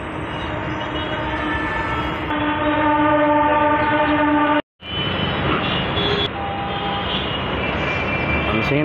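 Loud, continuous rumble and roar of a passing metro train in New Delhi with tonal whine, briefly cutting out and then resuming at close range.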